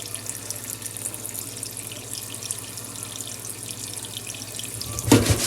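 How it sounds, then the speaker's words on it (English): Cold water runs steadily from a tap into a pot of chicken pieces, a constant rushing hiss that swells into a louder splash near the end. "So I'll just add in some cold water, and you want to add in just enough to cover the chicken."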